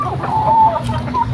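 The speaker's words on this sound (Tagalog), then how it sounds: "Iba-ibang klase ng iba't ibang lahi ng manok yan." Chickens of various breeds at a neighbour's poultry farm cluck and call nearby, a loud, busy mix of short bird sounds with a brief higher cry in the middle.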